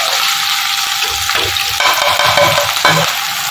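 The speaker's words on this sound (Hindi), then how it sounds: "घी गर्म होने के बाद हमने ये जो प्याज था इसको इसमें शामिल" Finely chopped onion fries in hot ghee with a loud, close crackling sizzle. Stirring scrapes come and go through it, and no one speaks.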